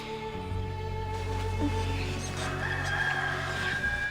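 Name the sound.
rooster crowing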